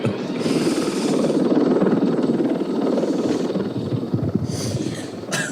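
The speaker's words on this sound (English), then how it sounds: "Wait, helicopter's flying over." A helicopter passes overhead outdoors, a steady loud chopping rotor throb that swells and holds for several seconds with no talk over it.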